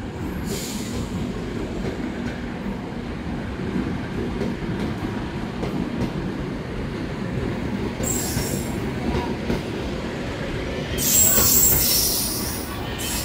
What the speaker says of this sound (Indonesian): Dan kali ini kereta api Manahan bawa kereta wisata nih,